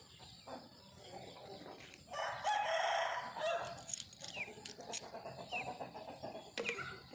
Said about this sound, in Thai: ไก่เยอะเลยค่ะไก่